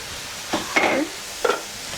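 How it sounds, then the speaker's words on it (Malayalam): Ground tomato juice poured into a sizzling crab roast in a pan gives a few short hissing bursts, close and moderately loud, separated by brief quiet gaps. "നമ്മുടെ നേരത്തെ അരച്ച് വെച്ച തക്കാളി ജ്യൂസ് ഒഴിച്ചു കൊടുക്കുക"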